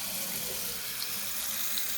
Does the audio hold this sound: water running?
yes